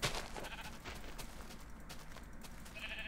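Sheep in the video game Minecraft bleat over a dense, noisy game soundtrack, the calls faint and partly buried in the mix.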